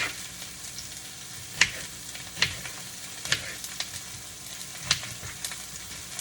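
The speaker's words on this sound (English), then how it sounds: "Onions always go in first, and generally peppers, because they take longer to cook" Onions and peppers frying in a pan: a steady, moderate sizzle with scattered pops and occasional clicks of stirring throughout, no voices.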